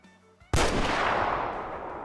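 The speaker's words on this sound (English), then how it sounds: "we go ahead and take the shot right here" Rifle shot at a deer in the hunting video game Way of the Hunter, one sudden loud report that rolls away in a long fading echo after a quiet moment.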